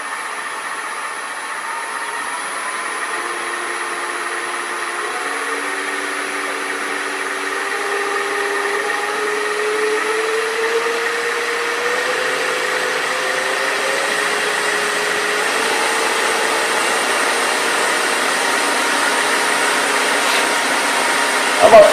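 A wood lathe spinning at 950 RPM, with a steady motor whine and hum that rises slightly in pitch and holds constant throughout, loud and close with no talk.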